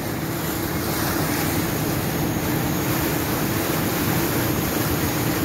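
Ocean waves and wind rush past aboard a ferry crossing open water, a loud, continuous broadband wash with engine rumble underneath and no break.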